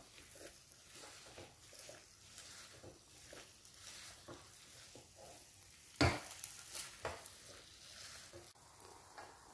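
Chopped tomatoes frying over high heat for a mixed vegetable sabzi, a soft steady sizzle with repeated quiet stirring strokes and one louder clatter of a spoon against the pan midway, no voices.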